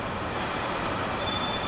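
A train at a railway station gives a loud, steady rumble of rolling wagons with a thin, continuous wheel squeal riding on top, close by and without speech.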